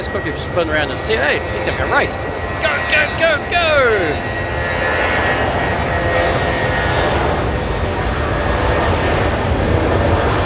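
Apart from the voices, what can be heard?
Jetstar jet airplane taking off at Auckland Airport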